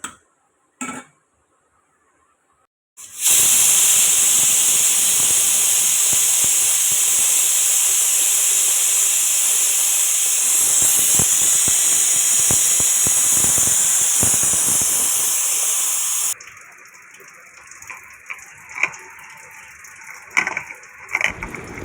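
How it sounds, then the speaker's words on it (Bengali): A pressure cooker on the stove, cooking chicken, lets out one long, loud, steady hissing whistle that holds for about thirteen seconds before cutting off, followed by quieter kitchen clatter. "হালকা সিটিটা মারলে দুটো সিটি মারলেই হয়ে যাবে"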